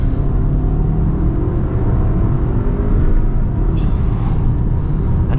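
Inside a 2024 Audi Q5e under acceleration, a steady loud drivetrain and road rumble fills the cabin without a break.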